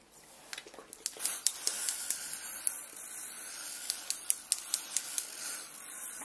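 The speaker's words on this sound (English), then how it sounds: "And this one is also a preventative spray." A spray bottle fires a quick series of hissing squirts of preventative lice spray, close and fairly crisp, each pump a short burst in an uneven rhythm.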